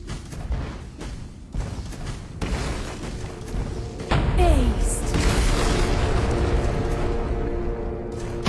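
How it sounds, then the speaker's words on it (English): A tower is blown apart in a mobile battle arena game, a deep booming blast that kicks in midway and leaves a sustained rumbling roar, following a stretch of busy combat sounds. "Your team has destroyed a tower."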